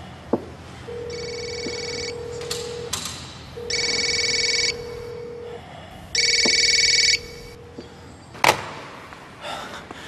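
A telephone rings indoors in a household scene from a TV drama: three long electronic ringing bursts separated by pauses, loud and clear with no talk, followed by a sharp clatter near the end.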